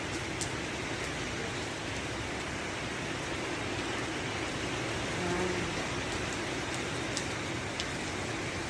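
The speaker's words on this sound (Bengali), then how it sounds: "জোর ঝড় উঠেছে, দেখো গাছ পাতা জোরসে বৃষ্টি নিয়ে গেল" Heavy rain pours steadily through a night storm, a dense, even hiss that stays at a constant level, with a few faint brief crackles above it.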